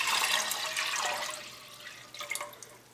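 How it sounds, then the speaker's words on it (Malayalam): Four cups of water splash and gush into a pressure cooker holding lentils, a loud pour that thins to a lighter trickle and a few final splashes. "ഞാൻ ഇതിലേക്ക് 4 കപ്പ് വെള്ളമാണ് ചേർക്കുന്നത്."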